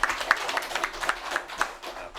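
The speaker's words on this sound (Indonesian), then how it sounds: "tepuk tangan dulu untuk Pak Datuk" People at an Indonesian community talk-show gathering clap for Pak Datuk, a few claps at a steady rhythm heard close, with voices talking over them.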